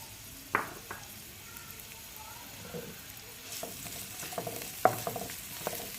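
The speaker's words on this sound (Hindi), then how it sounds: "उसके बाद मैं इसमें डाल दूंगी कटी हुई प्याज और इसको जो है सौटे कर लेंगे।" Chopped onions sautéing in a little ghee in a pan, with a soft steady sizzle and occasional sharp clinks and scrapes of stirring, no voices.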